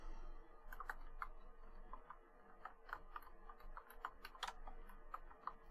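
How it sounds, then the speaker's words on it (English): Quiet, close typing on a computer keyboard while writing C++ code, irregular clusters of light key clicks with short pauses, no talk. "I'm just typing deconstructor syntax."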